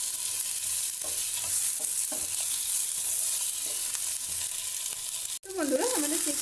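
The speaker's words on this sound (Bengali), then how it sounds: "তারপর এটাকে একটু উল্টো পাল্টা করে আমরা ভেজে নেব।" Chicken pieces fry with onions in a pan, a continuous close sizzle broken by scraping stirs, with brief talking near the end.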